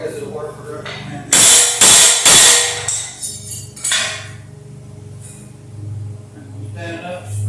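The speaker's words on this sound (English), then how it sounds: "This ain't the biggest hammer in the world, folks, but I guess it'll work for the man." A small hammer strikes the steel trackways of an old Frick sawmill, giving a few sharp metallic clanks close up, then lighter taps over a low mechanical hum.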